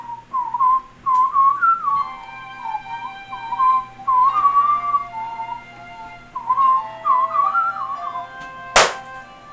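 A person whistles a tune in short, lilting phrases close by, pausing briefly between them, with one sharp knock near the end.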